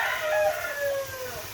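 A native rooster crows once, a drawn-out, wavering call close by, with a low background hum underneath.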